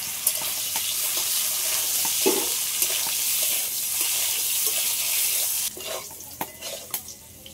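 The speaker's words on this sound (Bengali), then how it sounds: "কলাটা একটু লাল লাল করে ভেজে নিলাম।" Raw banana pieces coated in turmeric and salt fry in hot oil, giving a loud, steady hiss of sizzling that cuts off abruptly near the end and leaves a few scattered clinks and stirring sounds.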